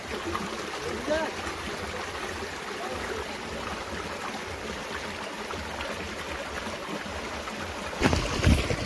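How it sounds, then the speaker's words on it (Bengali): Water flows continuously through small rocky gorges below a dam in winter, a soft steady rushing and trickling that stays constant and moderately faint, with a brief louder bump near the end. "আর সেই গিরিখাত দিয়ে জল বয়ে চলেছে অবিরত"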